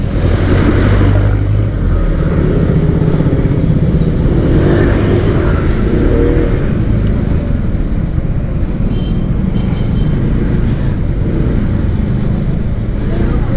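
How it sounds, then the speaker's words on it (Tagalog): A truck rolls past on the right near Jaime Cardinal Sin Village in Manila, heard from a moving motorcycle. Steady, loud engine and road roar with wind fills the whole stretch. "Ay, may truck dito sa may kanan."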